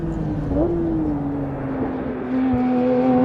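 Porsche 911 992 GT3 RS engine running steadily through a downshift into a corner, a loud continuous droning note that shifts and blips in pitch near the start and rises again at the end.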